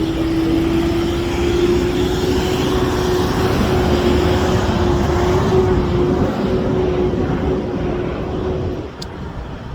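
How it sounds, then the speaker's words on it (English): An old, loud truck passes on a four-lane road, producing a heavy, sustained engine roar with a steady droning hum that stays close for several seconds, then fades away. "I had to wait to that loud truck. Some of these trucks are so old. They're so loud."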